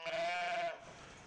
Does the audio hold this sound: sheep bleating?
yes